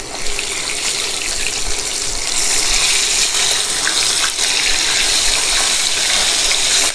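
A fish head fries in hot oil in a covered pan for a Bengali muri ghonto, making a loud, continuous close-up sizzle with dense crackling throughout.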